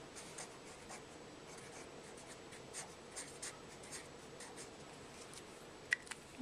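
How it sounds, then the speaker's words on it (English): A Sharpie marker writes a name on a tie-dye background, its soft squeaky felt-tip scratches coming in short close strokes, then a sharp tap near the end. "I'm going to take the Sharpie down in the corner here so I can see"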